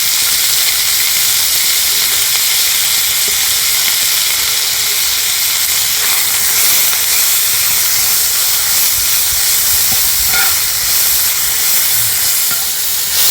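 Chopped onions with green chillies and salt frying in a little oil in a wok, giving a steady, loud hiss and sizzle that runs continuously throughout with no voices.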